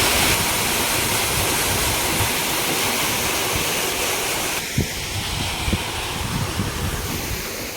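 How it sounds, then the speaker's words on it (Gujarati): Water rushes steadily into a farm well being filled to irrigate a millet field, a dense continuous gushing roar that shifts slightly partway through, with no talk. "એટલે પાણી જો સીધું કૂવામાં આવી ગયું છે હવે."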